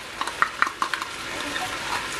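A spoon scrapes and taps against a pot while stirring Algerian mhadjeb filling, with a few sharp metallic clinks early on over a soft background of low sizzling, fairly quiet and without speech.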